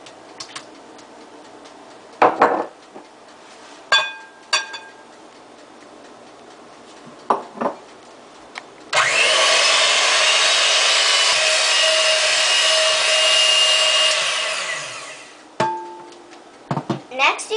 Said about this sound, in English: Now we have to add the butter and the sugar and cream it well.